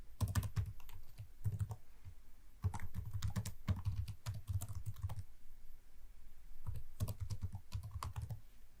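Rapid bursts of typing on a computer keyboard while entering a web address, with crisp close key clicks in several runs separated by short pauses.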